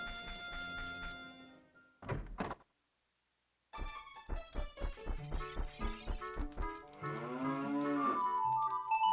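Cow mooing in the video game The Legend of Zelda: Ocarina of Time, a series of drawn-out moos and thunks over a short musical jingle with a brief silent gap, loud and close.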